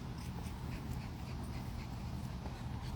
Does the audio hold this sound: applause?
no